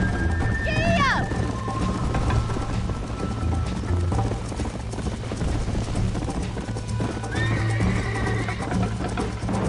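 John Marston's horse in Red Dead Redemption whinnies loudly near the start and again later, with steady clip-clopping hooves running throughout under a voice and game music.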